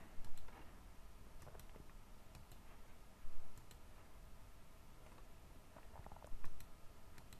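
Mouse clicks while duplicating a layer in Photoshop: sparse, crisp clicks scattered over several seconds, a few louder grouped taps, with no talk over them.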